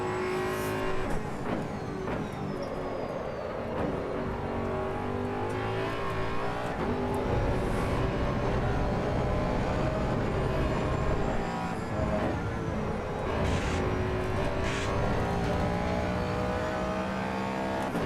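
Race car engine in the Assetto Corsa EVO racing game, loud and continuous, with rising and falling revs, gear changes and tyre noise throughout, no voices.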